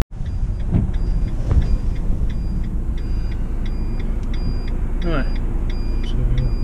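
A van tows a VW Up on an A-frame, its engine and road rumble holding a steady, loud drone throughout, with a few light clicks and brief mechanical squeaks on top and no talking.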